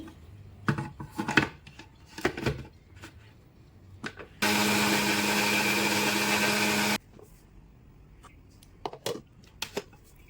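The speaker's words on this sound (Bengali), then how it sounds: "কাঁচা মরিচ রসুন একসাথে এইভাবে পেস্ট করে নেব মিক্সারে।" A kitchen mixer grinder blitzes green chillies and garlic into paste, a loud steady whirring burst of about two and a half seconds set between scattered knocks and handling clatter.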